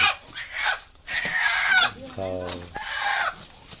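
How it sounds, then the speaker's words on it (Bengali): Desi chickens about to be slaughtered for curry give short, close clucks and squawks in bursts, separated by brief pauses, with faint background noise. "মুরগি বের করা হচ্ছে দেশি মুরগি কাটা হবে"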